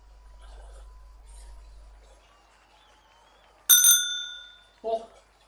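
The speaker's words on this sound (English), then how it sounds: "now I just get an ear-raped bike bell in my ear" Bicycle bell in the cycling game Zwift, one loud bright ding ringing out sharply after a stretch of quiet low voice, then a short lower knock as it fades.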